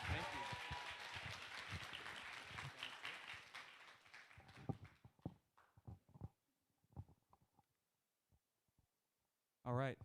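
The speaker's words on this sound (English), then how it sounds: "Let's give another big round of applause for Cece." An audience at a stage show premiere applauds with dense clapping that is loudest at the start, then thins into scattered claps and fades, with a brief burst of voice near the end.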